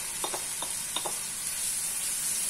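Egg sizzling in a hot pan for chicken egg fried rice, with Chinese salt and black pepper: a quiet, steady frying hiss broken by a few soft taps and stirring knocks in the first second.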